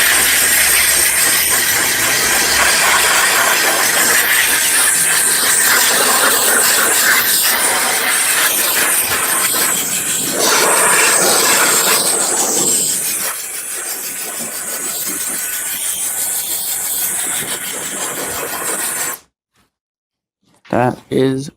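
Handheld electric air duster blasting dust off a computer's dust grate cover, a loud steady hissing rush of air that runs almost continuously, dipping slightly partway through before cutting off near the end with a couple of short final bursts.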